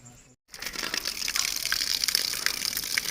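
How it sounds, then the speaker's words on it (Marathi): Water gushes from the mouth of a stone Nandi statue at an ancient temple, a steady close splashing rush with crackly bursts that starts after a brief silence and holds through to the end. "नंदीच्या मुखातून पाणी येतं"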